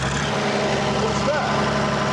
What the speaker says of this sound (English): It's a Leyland engine, and it's a British generator unit as well.